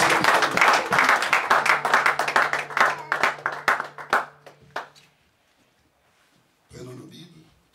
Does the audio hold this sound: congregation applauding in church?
yes